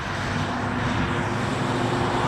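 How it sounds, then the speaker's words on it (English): Presidential airplane engines roaring at Lansing airport in Michigan, a loud continuous jet rumble heard from beyond the perimeter fence, steady throughout with no talking. "I want to get a good shot of the plane."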